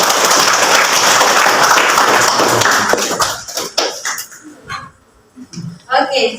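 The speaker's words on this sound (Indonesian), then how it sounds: "Kita kasih tepuk tangan." A classroom group claps for a presenting student group, a burst of many hands that fades out within about four seconds, followed by scattered talk.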